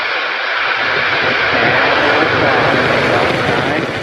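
SpaceX rocket engines igniting at launch from California, a loud, steady broadband roar that builds and holds without a break.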